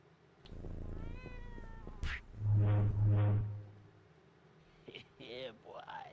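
A cat in a video game meows loudly and clearly near the middle of the clip, with louder game sounds and a voice before and after it.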